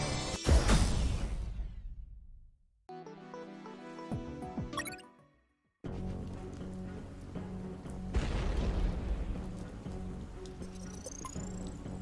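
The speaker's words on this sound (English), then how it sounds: "The platform collapsed after the ballistic abuse from all the missiles." In the UnMetal game, a platform collapses after a missile barrage: a loud opening boom decays into rumble, then clanking debris, a sudden cut to silence, and a second wave of crashing noise and rattling.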